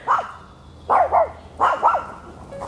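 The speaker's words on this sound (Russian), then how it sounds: "Собаки лают на заброшенную машину." Dogs bark in a forest at an abandoned car: three loud, close bursts, most of them quick double barks, with short pauses between them.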